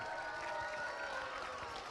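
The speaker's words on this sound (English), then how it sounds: "Give God a round of applause" Audience at a vacation Bible school gathering applauding, a steady wash of clapping and crowd noise heard at moderate distance, fairly faint and continuous for a couple of seconds.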